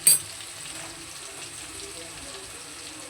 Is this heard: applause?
no